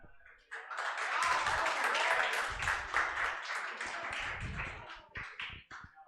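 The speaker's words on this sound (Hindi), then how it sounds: "ये जितने लोगों ने तालियां बजाई हैं" Students applauding together in a classroom during a Class 12 business studies lesson, a dense burst of clapping that swells, holds steady for several seconds, then thins into scattered claps.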